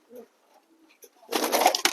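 A few soft, low coos from a Giribaz pigeon in a loft, then a sudden loud burst of fluttering and rustling close by.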